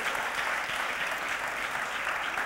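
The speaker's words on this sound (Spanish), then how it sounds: "dale un aplauso a papá Dios" A congregation applauds during a Spanish-language church sermon, with steady, dense clapping that holds at an even level for the whole stretch and no voices rising above it.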